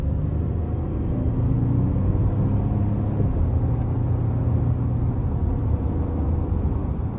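A 2023 Ford F-150 XLT with a 2.7-liter twin-turbo V6 accelerates hard, heard from inside the cab as a dense, steady low rumble of engine and road noise that rises slightly, with no talking.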